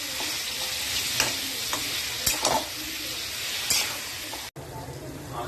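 Chicken fries in a pan with onion and tomato masala, giving a steady close sizzle broken by several scraping stirs of a spoon and one abrupt brief cutout near the end, with no voices.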